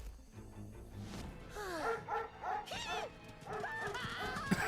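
Anime dogs bark and yip in a rapid series of sharp, pitch-bending calls over background music, fairly faint overall, with someone talking briefly.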